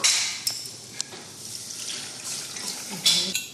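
Curd thinned with water poured into a pan for a Tamil buttermilk curry (mor kuzhambu), a soft steady liquid pour with a few small splashy bursts, close and fairly quiet with no talking.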